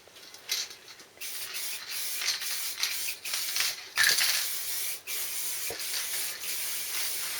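An aerosol spray paint can lays a coat of paint on a Triumph car in a garage, a close, breathy hiss coming in short bursts and longer passes with brief pauses between.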